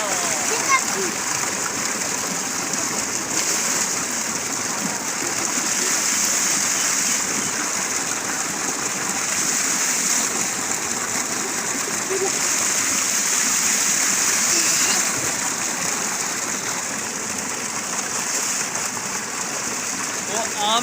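Fresh cold water splashes and pours steadily over mangoes in a village setting, a continuous rushing wash close to the listener, with faint voices in the background.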